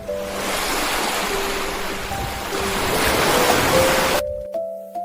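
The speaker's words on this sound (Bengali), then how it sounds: "ঢ ঢতে ঢেউ, ঢেউয়ের সাথে নৌকা ভাসে।" Sea waves roll and wash in a broad, steady surge, swelling and easing, with a few sustained tones laid over it and a sudden drop near the end.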